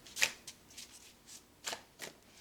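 Slippery tarot cards being shuffled by hand, giving several short crisp riffling bursts with brief pauses between them, close and fairly quiet.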